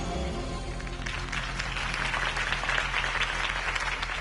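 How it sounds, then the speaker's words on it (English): A crowd claps and applauds steadily at a campaign speech in the Telltale Batman video game, a dense wash of hand claps that swells slightly, over a low background hum. "could have heard that applause"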